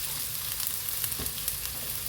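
Chopped onions frying in oil for a home-style green chilli chicken curry, giving a steady, close sizzle that crackles softly throughout with no talk over it.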